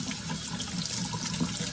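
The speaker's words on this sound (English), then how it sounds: "start pulling the leaves off and running them under the cold water as an initial rinse" Cold tap water runs steadily over lettuce leaves being pulled off and rinsed in a sink, a continuous close splashing hiss with no talk.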